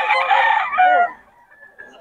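A Boston Roundhead gamefowl rooster at a gamefowl festival expo crows once, loud and close, with a strained, drawn-out call that fades away, followed by faint background murmur.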